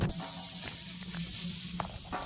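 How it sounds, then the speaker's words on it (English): Hamburgers sizzle on a grate over a wood-fired rocket stove, a steady close hiss filling the clip with a few faint pops and crackles scattered through it, no voices. "And we're cooking hamburgers."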